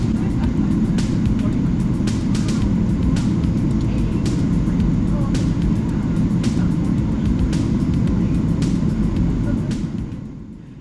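An American Airlines long-haul jet rolls along the taxiway toward runway 16 right in Sydney, with a loud, steady cabin engine drone and rhythmic thumps from the wheels crossing joints, fading near the end.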